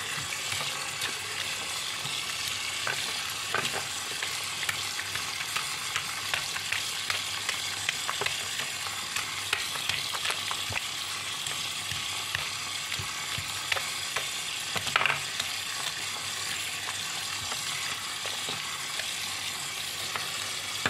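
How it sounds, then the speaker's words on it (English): Water runs steadily over ink-soaked absorber sponges from a Brother MFC inkjet printer as they are rinsed, producing a continuous broadband splashing hiss with occasional small clicks and louder bursts, fairly close and with no voices. "And then we just keep rinsing the sponges until the ink stops flowing out of it."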